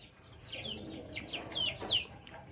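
Day-old chicks in a homemade brooder cage of wood, wire mesh and plywood cheep in rapid high peeps, several overlapping, close and fairly soft.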